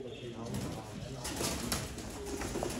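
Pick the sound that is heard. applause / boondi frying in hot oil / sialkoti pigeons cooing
sialkoti pigeons cooing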